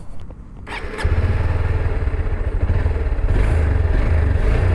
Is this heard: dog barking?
no